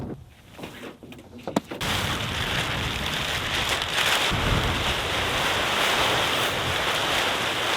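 Strong wind roars and buffets continuously, a broad rushing noise that swells and steadies after a few brief knocks at the start.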